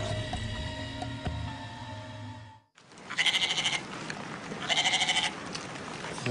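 A person imitates a goat, giving two drawn-out wavering bleats, one after the other, after a steady humming background dies away.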